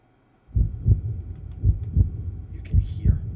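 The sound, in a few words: heartbeat sound effect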